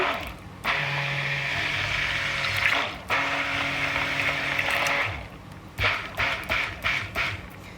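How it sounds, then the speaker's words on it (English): A stick blender whirs in loud bursts while it mixes colour into thick salt soap batter, with short pauses, then quick on-off pulses toward the end. "So let's just stick blend the colour in."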